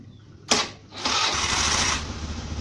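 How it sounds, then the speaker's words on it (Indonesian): A motorcycle engine cranks with a sharp click and whir, then catches and runs with a loud, steady roar before settling to a lower idle. "Coba nyalain motornya."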